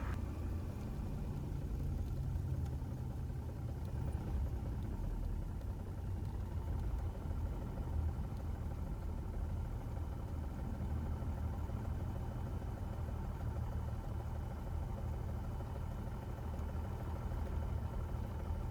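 Cessna aircraft engine taxiing, heard as a low, steady droning rumble that stays muted and even throughout.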